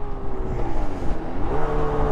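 A Yamaha RD350 YPVS two-stroke motorcycle from the 1980s being ridden, its engine holding a steady, buzzy drone with a slowly shifting pitch, fairly quiet and continuous for about two seconds.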